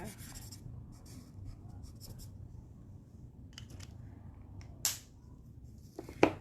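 Blending alcohol markers stroke across card paper in soft, scratchy, close-up bursts, with brief pauses between strokes and a couple of sharper clicks toward the end, like a marker cap.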